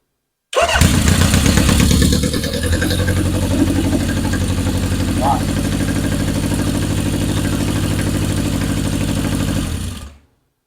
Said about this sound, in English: Want to hear it run just one more time?